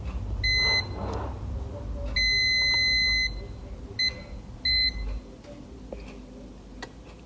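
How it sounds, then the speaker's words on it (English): A multimeter's continuity tester sounds sharp electronic beeps while its probes touch a shorted capacitor on an iPad Air logic board: four separate tones, one short, one long, and two brief ones, over faint handling clicks. "So that capacitor is beeping both side pins."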